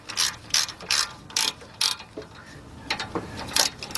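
A 3/8-drive ratchet with a 10 mm socket clicks in quick bursts while tightening rear brake caliper bolts on a 2003 Ford Explorer 4.0, about ten crisp, close ratcheting strokes with short pauses between.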